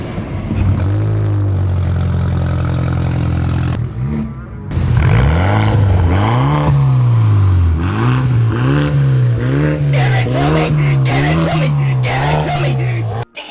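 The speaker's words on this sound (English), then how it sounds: "Let's go hear what the exhaust sounds like right now." A BMW F30 328i with its resonator removed and muffler changed idles with a steady drone, then revs repeatedly in rising and falling bursts, loud and close, with a brief drop near the end.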